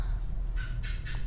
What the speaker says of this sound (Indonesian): kalau dia pas sendiri itu enak banget ngekeknya ya